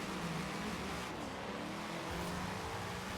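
Engine of a 1750-horsepower AMC Rebel drag car in Forza Horizon 4 holds a loud, steady high-rev drone, with a slight dip and surge midway and no voices.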